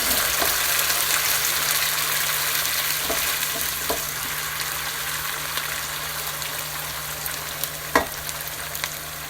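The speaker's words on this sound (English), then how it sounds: "Mix of virgin olive oil and some thinly sliced garlic to start." Thinly sliced garlic sizzles and fries in virgin olive oil over high heat in a pan, a steady close crackling hiss with a few sharper pops, no voices.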